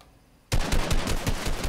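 Gunfire in a video game: after about half a second of near silence, loud rapid bursts of shots erupt and keep rattling in quick repeated volleys close up.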